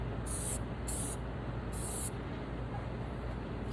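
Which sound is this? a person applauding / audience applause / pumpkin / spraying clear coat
spraying clear coat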